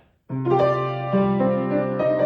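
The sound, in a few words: piano played with half pedal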